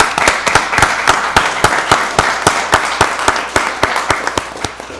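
Enthusiastic applause from an audience at a county board of commissioners meeting, dense clapping with sharp individual claps standing out, loud and sustained throughout.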